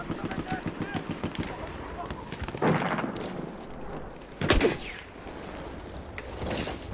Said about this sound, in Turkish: Kime sıkıyorsun lan?